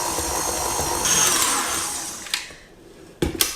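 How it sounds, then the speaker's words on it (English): Electric mixer whisking tea cake batter with flour and melted butter on low speed, a steady whirring motor hum close by, with a couple of brief clacks and bumps near the end. "Whisk again on a low speed."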